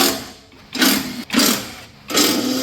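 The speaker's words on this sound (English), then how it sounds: "We'll see whether the little impact will do it." Small impact wrench on a Jeep Wrangler JK removing skid plate bolts: three loud close rattling bursts separated by short pauses, with no talking.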